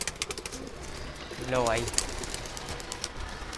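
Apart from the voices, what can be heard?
pigeons cooing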